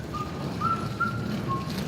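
A person whistles a few short, clear notes while walking down a newly swept path, in a stage drama performance, four brief tones spaced apart over a low room murmur.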